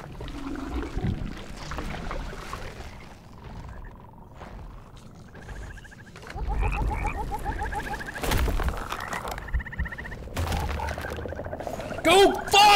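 Frog croaks and wet gulping sounds come when a frog is fed to Gorf in the Mortal Shell video game, mixed with other game effects and intermittent noises at moderate loudness.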